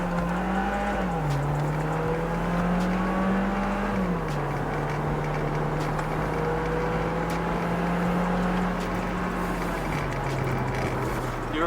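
A Volkswagen Jetta MK7 accelerates hard in normal drive mode, heard from inside the car. A steady engine drone climbs in pitch, dips at each gear change, then pulls upward again for about eleven seconds.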